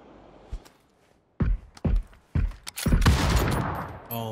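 AK rifle gunfire in the PUBG video game: a few sharp, separate shots at first, then a quick cluster of loud cracks and a sustained burst near the close.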